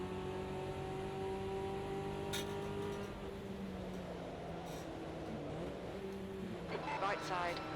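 Race cars in an Automobilista 2 sim race drone and rev with layered engine tones shifting pitch, running steadily then easing and rising again under a noisy wash, with light talk mixed in.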